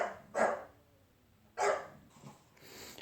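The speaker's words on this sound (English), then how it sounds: "There's my dog" A dog barks twice indoors, single sharp woofs about a second apart, moderately near, followed by a softer muffled huff, with no one talking.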